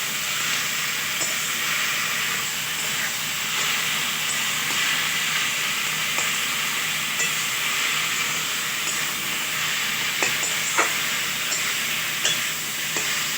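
Potatoes and onions with Maggi masala being stirred and sautéed in a hot pan, giving a steady, loud sizzle with scraping stir strokes and scattered crackles throughout, no voices.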